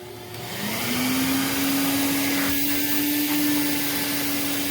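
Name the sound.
Prolux CTX water vacuum cleaning power nozzle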